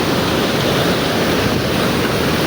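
Water rushes at Sundarijal in a loud, continuous roar, a steady broadband torrent with no breaks and no voices.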